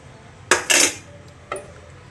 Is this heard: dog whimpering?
no